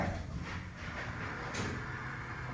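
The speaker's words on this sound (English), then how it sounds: "Go down to 1 and shut the doors." Brass elevator doors at the Florida Mall in Orlando sliding shut, a steady low rumble with a brief soft thump near the end, with no talk.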